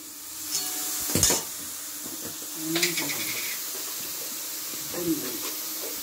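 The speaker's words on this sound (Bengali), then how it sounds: "এইবারে সমস্ত সবজিগুলোর সাথে এই চিকেনটা ভালো করে নেড়ে নেব।" Chicken and vegetables are stirred in a pan over a soft sizzle and hiss, with a few sharp utensil scrapes and clinks against the pan and a voice speaking intermittently.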